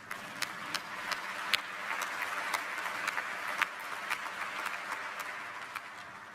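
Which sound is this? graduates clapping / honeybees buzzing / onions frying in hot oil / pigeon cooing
graduates clapping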